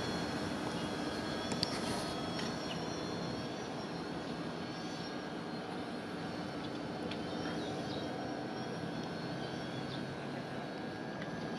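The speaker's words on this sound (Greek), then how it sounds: "Τον drone ακολουθεί τον Αλέξη." A Xiaomi drone flying outdoors while following a person, a constant, steady whirring drone hum heard from a moderate distance, with no talk over it.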